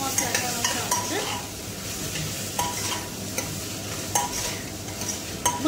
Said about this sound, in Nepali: एकछिन चलाएर भुटिँदै छ नि त एकछिन भुट्छु